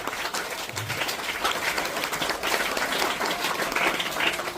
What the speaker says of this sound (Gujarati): તાળીઓથી આપણે વધાવીશું.